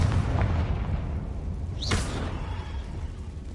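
A Confringo blasting spell explodes in Hogwarts Legacy: one dull, booming blast with a brief rising whoosh partway through, set over a steady low rumble of game ambience.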